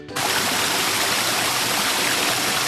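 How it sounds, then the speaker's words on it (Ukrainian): Steady roar of a waterfall, a dense continuous rush of falling water heard up close with no other sounds. "водоспад"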